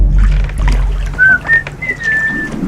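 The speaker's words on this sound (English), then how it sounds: "taken to whistling to keep his mind on the game" A person whistles a few short rising notes, then one longer sliding tone, over a low rumbling background.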